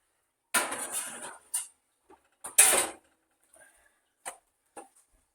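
Sausage rolls on a tray going back into the oven: a few sharp metallic clanks and scrapes of tray and oven rack with a rattling door sound, then quieter taps separated by silence.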